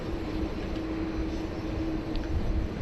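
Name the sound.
China Southern Airbus A330-300 cargo flight arriving at Sydney Airport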